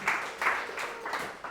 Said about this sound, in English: Round of applause for Zach, pretty please.